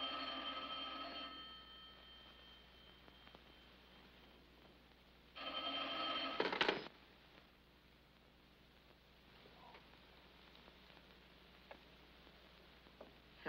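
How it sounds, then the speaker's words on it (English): A 1953 telephone rings, a bright mechanical bell in two bursts; the second cuts off abruptly with a clatter as the receiver is picked up, leaving a quiet room. "You can make it stop ringing by taking the receiver off the hook."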